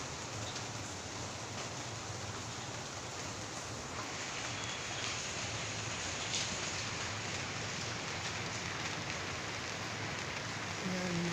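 Steady rain falls at the Navotas fish port, a dense continuous hiss of drops on surfaces that holds evenly throughout with no talk.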